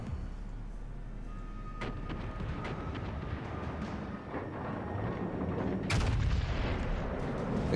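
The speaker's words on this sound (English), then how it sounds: "We're just going to fire our rear turrets here" HMS Conqueror in World of Warships Legends firing its rear turrets, heavy booming gunfire reports over a rumbling background, with a loud blast near the end.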